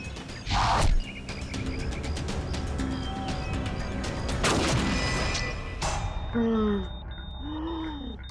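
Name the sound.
gunshot in a TV crime drama scene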